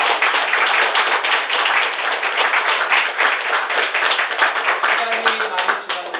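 Audience applause closing a two-hour professor's seminar on capitalism at a church, a steady dense wash of many hands clapping close by that carries through the whole stretch, with some voices mixed in.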